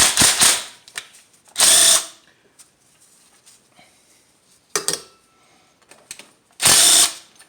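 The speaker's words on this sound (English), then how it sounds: "I'm going to be using a 14mm socket." A hand ratchet with a 14mm socket works valve cover bolts loose on a 1998 Dodge Grand Caravan engine, giving short bursts of rapid clicking separated by quiet pauses, close and fairly loud.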